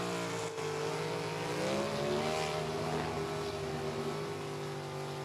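A Southeast Gasser drag race car built by Billy Edwards, with a Gene Fulton motor, roars at Rockingham Dragway, a steady, loud engine drone whose pitch rises and shifts as it accelerates, with no talking.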